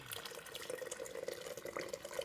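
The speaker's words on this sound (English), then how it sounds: "Just pouring it into glass jars here in a fine mesh strainer." Bone broth is poured through a fine mesh strainer into glass jars, making a continuous soft, faint trickle and splash of liquid close by.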